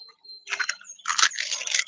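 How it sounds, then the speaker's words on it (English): Eggshells crushed by hand in a garden give two bursts of dry, crackling crunches, a short one followed by a longer, denser run, close to the microphone with no talking. "Just break your eggs, break them up."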